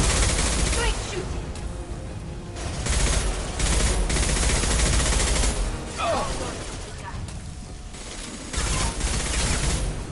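Rapid gunfire from the Mass Effect 2 video game rattles in sustained automatic bursts with brief lulls, loud and close, as voices sound faintly in the mix.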